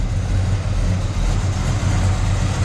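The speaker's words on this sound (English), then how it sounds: "Engine sounds very nice." A 1972 Buick Skylark GS tribute with a big 455 V8 idles in a steady, deep rumble with a low throbbing pulse, close and loud with no talk over it.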